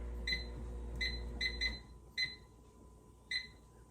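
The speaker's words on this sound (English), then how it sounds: "timer." A kitchen timer beeps in short, bright electronic chirps, some doubled, spaced irregularly over a few seconds, close by and clear above a low appliance hum that cuts out partway through.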